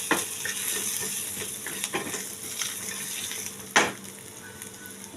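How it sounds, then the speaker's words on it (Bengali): Ginger frying in hot oil for a Bengali cucumber shukto, a steady close sizzle with a few scraping stirs and one sharp clatter near the end, no voices. "অল্প আদা এখন তেলে দিয়ে দিচ্ছি"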